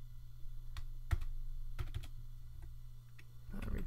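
Keys clatter in short irregular bursts as code is typed on a computer keyboard, close and fairly quiet over a low steady hum, with no voices.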